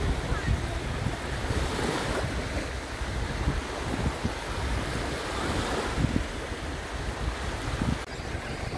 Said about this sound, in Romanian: Au început valurile.